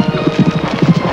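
A cart horse's hooves clip-clop in a steady, close rhythm, with a neigh mixed in over the hoofbeats, loud and continuous with no talk.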